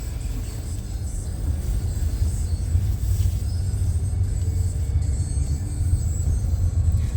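A car drives along a road on the way to work, giving a steady low engine rumble and road noise inside the cabin, continuous and fairly loud, with no talk.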